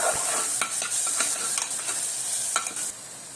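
Onion and tomato sautéing in a pan with chilli powder and coriander powder, a loud continuous sizzle broken by repeated scraping stirs, close up and with no voices.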